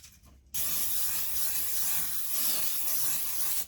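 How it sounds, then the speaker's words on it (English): A steady spray of baking spray into a Bundt pan hisses continuously for about three seconds, close and loud, with no talking. "So I am going to spray my Bundt pan right now."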